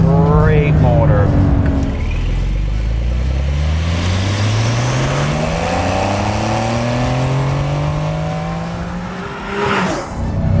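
A Porsche 911 Carrera T engine revs loudly while driving, its pitch climbing in long rising sweeps through the gears, with a brief dip and burst near the end; a voice speaks over it early on.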